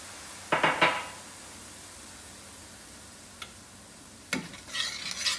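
Wine poured into a hot pan to start a meatball sub sauce, giving short bursts of sharp hissing sizzle and scraping stirring with quiet pauses between, close and fairly faint, no talking.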